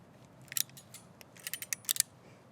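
Solid ethernet cable wire trimmed with a cutting tool, a handful of sharp close snips and clicks in two quick clusters against a quiet background.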